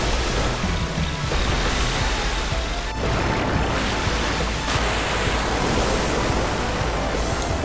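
Torrent of rushing water from the Leviathan summon in Final Fantasy VIII, a loud, continuous roaring surge like crashing surf that fills the whole stretch with brief swells and dips.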